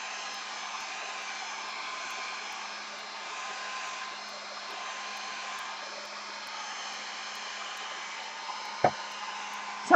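A hair dryer blows hot air onto a gelli print, giving a steady, even whooshing roar held close for the whole stretch, with a couple of faint handling knocks near the end.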